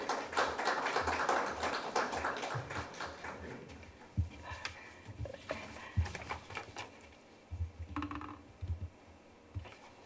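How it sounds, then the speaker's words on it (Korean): A seminar audience applauds as a Hoseo University social welfare professor comes up to present. Dense clapping fills the first few seconds, then thins to scattered, separate claps. "이인정 교수님 나오실 때 큰 박수 부탁드립니다"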